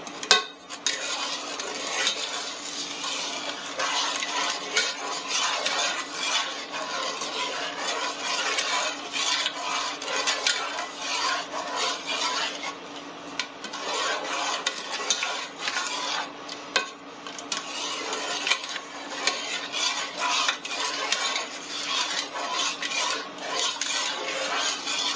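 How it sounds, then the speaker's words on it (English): Cranberry sauce with sugar being stirred in a pot, a steady continuous scraping and rubbing of a utensil against the pot that keeps going close up with no pauses and no talk. "I'm going to keep stirring till all the sugar gets melted"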